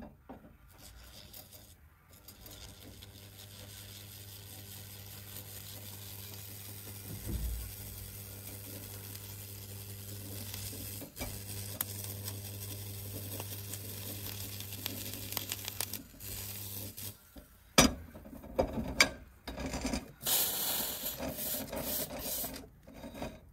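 Stainless steel weld cleaner working over a heavy, dark MIG weld on 2 mm wall stainless pipe, giving a steady electrical hum with a rasping scrub that runs continuously, then turns louder and more broken near the end.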